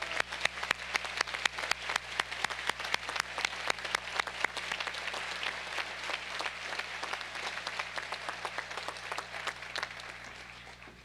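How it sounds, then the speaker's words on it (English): A large audience at a 2007 commencement ceremony claps together in a sustained, dense round of applause that gradually thins toward the end. "Please join me in a round of applause."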